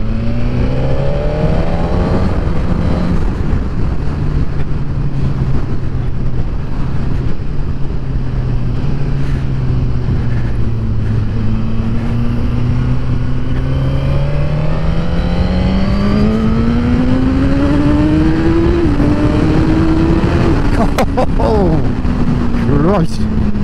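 A Suzuki GSX-R1000R motorcycle with quick shifter and auto blipper accelerates hard, a loud continuous engine drone rising and dropping in pitch through rapid gear changes, heard close with wind buffeting and occasional voice underneath.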